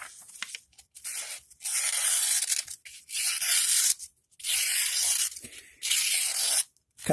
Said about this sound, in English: Cuts paper quite well.